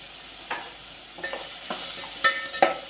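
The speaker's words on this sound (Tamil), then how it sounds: "சின்ன வெங்காயம் நல்லா வதங்கட்டும்." Small shallots sauté in a pan for Chettinad pakoda kuzhambu, giving a soft, steady sizzle broken by several sharp scrapes and clinks of a spoon stirring against the pan, close by with no talking.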